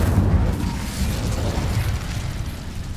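A rumbling, roaring blast of the Incendio fire spell in Hogwarts Legacy, a steady low whoosh that fades slightly over a few seconds with no talk.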